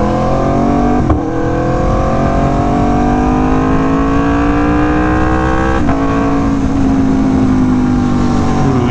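An Aprilia Tuono V4 1100 Factory motorcycle engine revs up slowly and steadily, its loud, close, rising drone climbing in pitch across the clip with two brief dips, with no voices over it.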